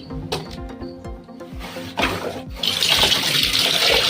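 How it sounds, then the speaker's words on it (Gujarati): A small homemade hand pump works with repeated clanking strokes, then water gushes out steadily and loudly. "આપણે જોઈએ કે આપણો બનાવેલો હેન્ડપંપ પાણીને કેટલી ઝડપથી બહાર કાઢે છે"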